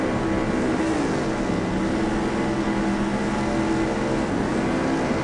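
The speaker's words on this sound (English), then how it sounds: "Yeah, it's going to be tough coming out of turn 1, so here we go. We're revving up." Race car engines rev steadily together on the starting grid at Watkins Glen, a dense, continuous droning roar with shifting pitch, loud and unbroken throughout with no talk.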